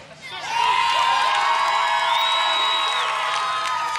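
A professional wrestling crowd roars for cult hero Shark Boy, loud sustained cheering with whoops and high shrill yells rising after a quieter start and holding to the end.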